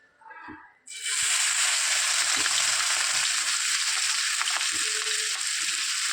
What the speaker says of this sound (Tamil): இதையும் மசாலையை கொஞ்சம் போட்டு உப்பு போட்டு வறுத்துடலாம்